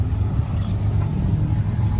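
A car rolls up at a car show, its engine a steady low rumble close by, idling along without any clear revving and with no voices over it.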